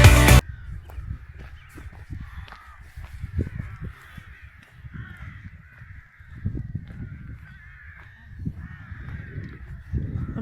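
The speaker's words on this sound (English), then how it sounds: "I'm hoping the camera's picking up the sound of the birds." Crows caw repeatedly near Stonehenge off the A303, their harsh calls fairly close and overlapping against steady wind rumble, alone with no talk.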